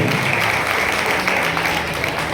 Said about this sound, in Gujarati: જોરદાર તાળીઓથી સ્વાગત કરી આપણે એમને